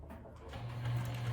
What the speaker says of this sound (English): let's go to the sewing machine and top stitch all this here going across